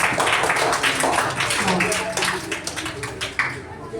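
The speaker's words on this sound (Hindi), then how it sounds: "के लिए एक बार जोर से ताली बजा दीजिए" A group of children at a Sunday school clap together in a quick, uneven patter that carries on throughout, with talking mixed in over the applause.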